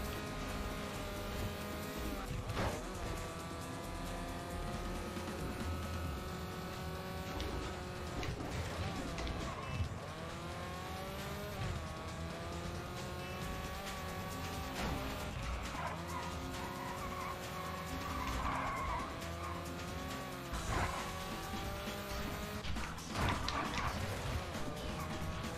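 A race car skids through a rally-style race in the Wii game 007: Everything or Nothing, its engine droning steadily while tires squeal in long sliding sweeps, loud and continuous with repeated pitch-shifting slides.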